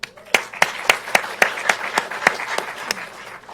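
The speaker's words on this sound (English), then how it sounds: "a round of applause for the ones who weren't able to make it today" Applause from a crowd at a UNC Department of Surgery graduation ceremony, with crisp, fairly regular claps standing out over a softer spread of clapping for a few seconds before tapering off.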